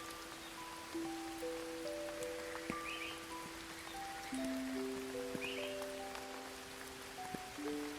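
Soft, steady rain falling, a faint, even hiss with scattered drips, mixed under gentle sustained musical tones that come and go.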